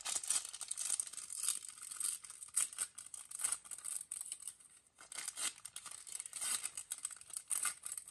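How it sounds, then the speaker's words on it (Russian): Plastic sticker packet from a Moomin collectible series being torn open, crinkly rustling and ripping close to the microphone, quiet and without talk. "Откроем следующий пакетик."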